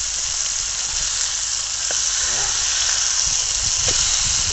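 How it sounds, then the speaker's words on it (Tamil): Garlic chicken sizzles loudly in a pan over a wood fire in a village outdoor kitchen, a steady bright frying hiss with faint clinks as pieces are turned. "இப்போ கார்லிக் சிக்கனை திரும்ப நம்ம திருப்பி போடணும்."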